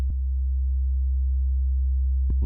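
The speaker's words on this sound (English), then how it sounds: "I'm playing one sine wave." A steady, low sub-bass sine tone generated in FL Studio hums on its own throughout, with brief clicks at the start and near the end.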